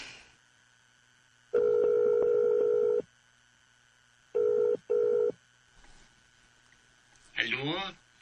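A telephone being dialed to call Janley: bursts of steady dial tones, a long run of key tones and then two shorter ones, with quiet gaps between them. A short voice comes in at the end.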